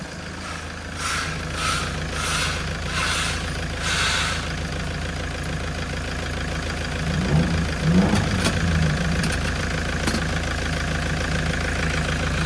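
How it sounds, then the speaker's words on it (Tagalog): A Toyota Hilux pickup with low power idles steadily close by, its engine rising briefly in a modest rev as the turbo is tested, then settling back to idle. "apakan mo nga kung gagana na yung sa turbo"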